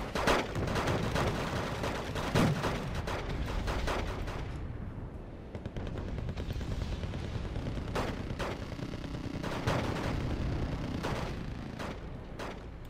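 Sustained gunfire from a recoilless rifle infantry assault in the video game Wargame Red Dragon, set in mountain warfare: dense overlapping shots and bursts with heavier booms scattered through, continuous and fairly loud throughout.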